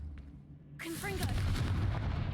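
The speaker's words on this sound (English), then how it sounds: "Confringo." A Confringo fire spell blasts off in Hogwarts Legacy, a sudden loud fiery burst and crackling rush after a near-quiet lead-in, briefly trailing into a roaring wash.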